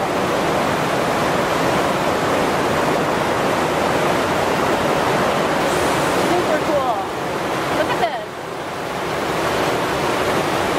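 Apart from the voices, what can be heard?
small underground waterfall in a cave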